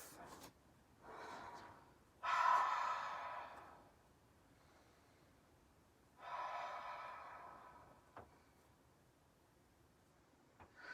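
Deep cleansing breaths taken in standing mountain pose during a vinyasa yoga class: three slow, airy exhales and inhales, close and moderately loud, separated by quiet pauses, with a faint click near the end.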